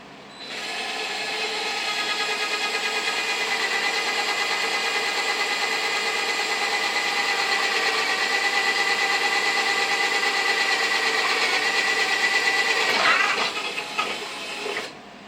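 A power drill bores small feeder holes through wooden support studs under a model railroad, whirring steadily and loudly for about twelve seconds before it winds down and stops with a few rattles.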